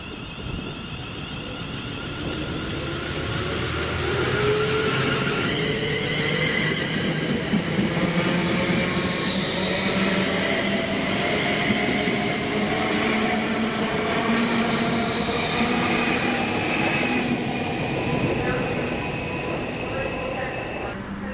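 London Northwestern Railway Class 350 electric trains pass through Stafford station, a continuous loud rumble and whine building and sustained with wheel and rail noise, close by, while a person speaks over it.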